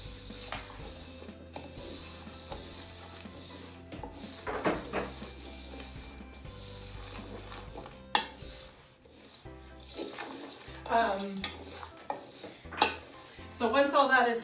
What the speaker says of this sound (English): We're going to stir up these dry ingredients till they're mixed